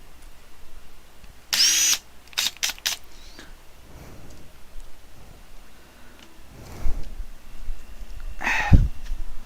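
A handheld power drill from a new drill set whirs in a few short, loud bursts close by, separated by quieter gaps with faint handling noise.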